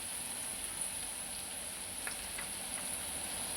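Onions frying in a pan with salt give a faint, steady, even sizzle throughout, with a few tiny crackles and no voices.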